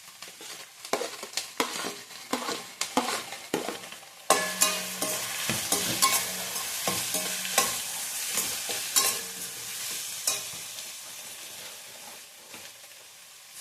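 Tomato stirred and frying in a pan for idli manchurian: a steady close sizzle with repeated scraping stirs and utensil clinks, growing louder and denser partway through, with no talk.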